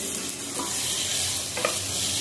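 Chickpea and potato masala hisses and sizzles in a hot pan right after hot water is poured in, with close scraping stirring sounds over a steady bubbling fizz.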